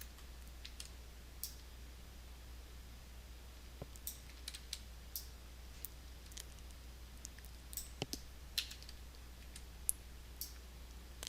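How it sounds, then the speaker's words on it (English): Single keystrokes on a computer keyboard, the G key pressed again and again while modelling extrusions in 3D software, heard as faint, sparse clicks and ticks spaced irregularly over a steady low hum, with no talking. "each time I need to make a new extrusion, I'm pressing the G key on my keyboard"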